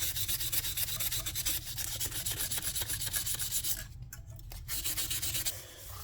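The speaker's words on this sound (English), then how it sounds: "Then using very fine grit, starting at 800, and I'll go to 1000." Fine-grit sandpaper at 800 grit rubs steadily across the frets of a Les Paul-style copy guitar, a continuous close, dry scratching rasp that pauses briefly near the end and then resumes.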